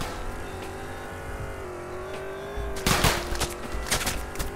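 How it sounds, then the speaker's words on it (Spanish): A car engine drones steadily in the video game Roblox, then bursts of gunfire crackle in quick volleys over it, loud and repeated toward the end. "se están peleando, se están pegando a tiros acá."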